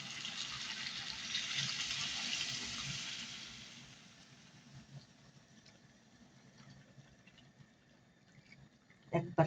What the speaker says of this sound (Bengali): পানি দিয়ে দেবো, গরম পানি।